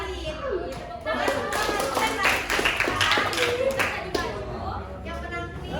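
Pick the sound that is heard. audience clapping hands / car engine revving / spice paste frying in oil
audience clapping hands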